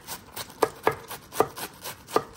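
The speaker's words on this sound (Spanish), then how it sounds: "aquí lo estamos picando así minutamente" Lettuce being finely chopped with a knife on a cutting board while preparing chicken tinga tostadas: a steady run of crisp, close knife taps, each cutting through leaves with a soft thud, with no talk.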